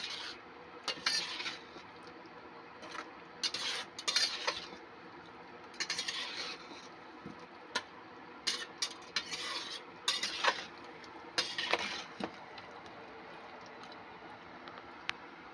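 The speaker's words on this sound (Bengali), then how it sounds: "এবার আমি এটাকে অল্প অল্প করে জল দিয়ে কষাতে থাকবো যতক্ষণ না আলু এবং মাংসটা সেদ্ধ হয়ে যায়" Chicken and potatoes are stirred in a pan with a little water, with a spatula scraping and clinking against the metal in irregular bursts over a soft background sizzle.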